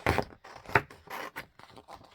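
Scissors snip through pieces of paper bag being trimmed for a handmade journal, a few crisp close cuts with brief rustling scrapes in between.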